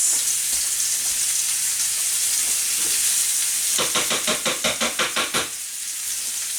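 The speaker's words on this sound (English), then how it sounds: "Yes, listen to that sear." Food searing in a hot skillet gives a loud, steady sizzle; about midway, a quick run of sharp rhythmic scraping or tapping strokes rises over it, then fades back into the continuous hiss.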